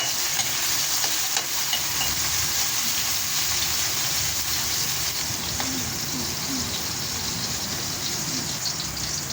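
Tomatoes sautéing in a little cooking oil for sinigang, a continuous dense sizzle with faint stirring scrapes throughout, moderately loud and unbroken.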